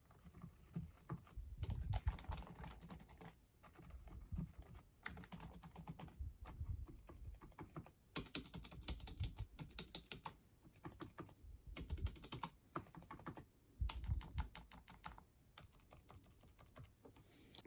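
Keys clatter steadily on a quiet computer keyboard, soft rapid typing in uneven bursts with short pauses, faint and close with no voices.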